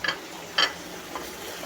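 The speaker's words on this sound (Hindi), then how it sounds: "एक बड़ा चम्मच लहसुन अदरक का डाल दिया मैंने।" A tablespoon of garlic-ginger paste dropped into a hot pan gives a few light scrapes and clinks of a spoon over a soft, low sizzle, close by, with no speech.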